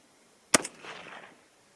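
A single sharp, loud rifle shot from a .224 Valkyrie, a sudden crack followed by a short decaying echo and then quiet.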